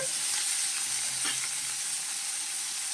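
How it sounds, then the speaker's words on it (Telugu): Soaked dried fish frying lightly in a pan produces a steady, loud, hissing sizzle, continuous and close throughout, with a faint stir or scrape near the middle. "ఇదిగోండి లైట్గా ఫ్రై చేస్తున్నానండి."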